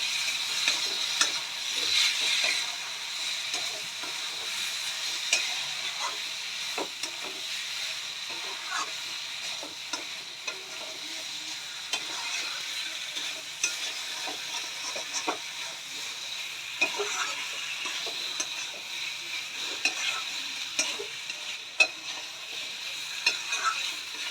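Fried pointed gourd is stirred into a shrimp paste masala in a pan, giving a steady close sizzle and hiss with repeated scraping stir strokes throughout, no voices.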